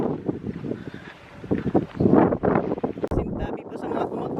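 Cold, strong wind on a cattle farm buffets the microphone in uneven, rumbling gusts. It is loud and close, with a voice faintly audible underneath.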